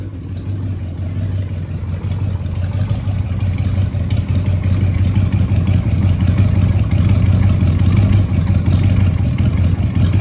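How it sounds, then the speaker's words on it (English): An old 345 engine idles smoothly and steadily, a close, even mechanical rumble with light clatter that stays constant throughout, with no voices. "And look how good that thing idles."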